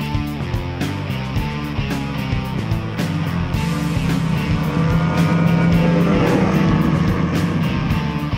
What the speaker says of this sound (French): un petit coup de crank et on fait révolutionner cette 600-là avec une sonorité stylisée Arctic Cat